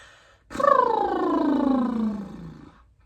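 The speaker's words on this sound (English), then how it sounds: "let's do some more lip trills, and this time add some phonation into it" A single voiced lip trill, a buzzing flutter of the lips that glides downward in pitch over about two seconds, close and clear with no talking.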